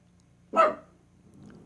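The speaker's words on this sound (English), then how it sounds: "Don't mind my dogs in the background." A single sharp dog bark rings out close by in an otherwise quiet space, followed by faint low rustling; the bark is loud and brief, standing alone without any talk over it.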